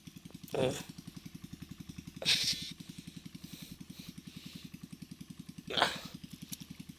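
A motorbike engine runs steadily at a chili field, its close, even putter pulsing without a break while voices speak briefly over it.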